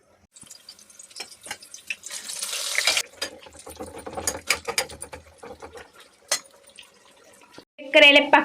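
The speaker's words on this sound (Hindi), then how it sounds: "अब इन्हें धोते हैं फिर, और इनको 2 बार धोकर अच्छे से पानी में से" Bitter gourds are washed in a sink under running water, with a gurgling tap stream, splashes and hands rubbing the vegetables, in bursts broken by short pauses and a louder splash near the end; no one talks.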